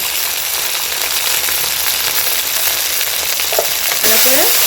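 Vegetables sizzle and fry steadily in a pan with turmeric and salt for a vegetarian dish of banana stem and fig, while a utensil stirs them, with scraping strokes near the end.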